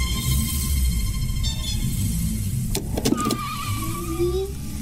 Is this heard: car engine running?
yes